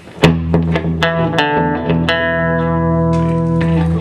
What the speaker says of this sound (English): So you can hear when the delay comes in, the delay itself actually has a reverb on it.